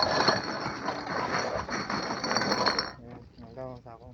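Glass bottles and cans clinking and rattling as junk is gathered, a dense busy jangle for about three seconds before it stops, with a voice speaking.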